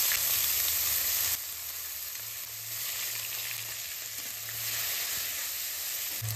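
Onions and cumin seeds sizzle in hot oil for a mutton curry, a steady close frying hiss that drops slightly in level partway through and keeps crackling throughout.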